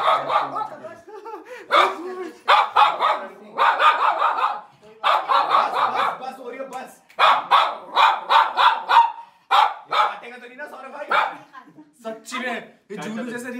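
A dog barks repeatedly in loud, close bursts with short pauses between volleys, while people talk nearby.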